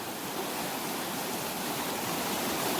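A big, powerful river flows past, its muddy water producing a steady, loud, broadband rushing roar, close by and unbroken, with no voices over it.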